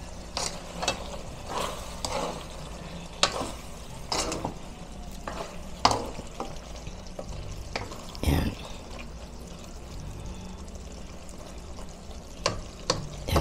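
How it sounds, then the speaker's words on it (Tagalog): Ground pork menudo in tomato sauce is stirred in a pan, with repeated scraping strokes of the spoon and a soft simmering sizzle underneath, close and moderately loud. "Ating haluin"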